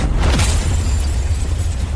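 A car blowing up in a Filipino drama scene, a loud, dense rumbling blast that fills the whole clip with sustained low roar and crackling debris, no voices.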